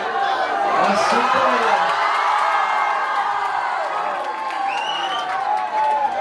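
A large crowd cheers and whoops continuously at a Kannada film event, loud and close, with shouts and a few whistles rising above the roar.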